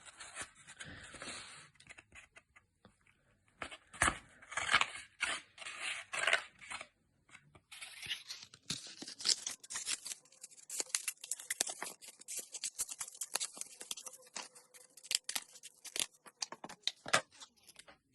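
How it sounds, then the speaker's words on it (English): Scissors snip through paper while a caterpillar shape is cut out for a toddler craft, with quick irregular crisp cuts and a rustle of paper, close and fairly quiet with no talking. "So let's just snip away here."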